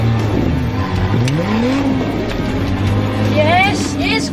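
A Nissan Navara 4x4 stuck at an off-road 4x4 park, its engine revving in loud surging bursts, pitch rising and falling while working against the ground, close by with occasional whine and spin.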